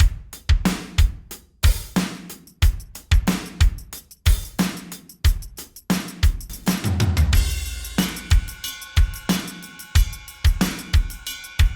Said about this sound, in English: Now I'll adjust the tambourine.